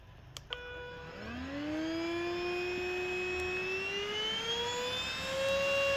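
A vacuum cleaner found by the roadside, running with low suction, starts up after a couple of clicks and spins up into a steady high-pitched motor whine that rises and holds, close and moderately loud.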